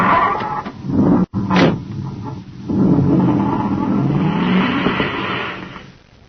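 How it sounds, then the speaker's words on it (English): A 1950s radio-drama sound effect of a commander's surface car roaring away, a loud sustained engine rush with a brief sharp burst near the start, then fading out at the end. "roar away in the commander's surface car"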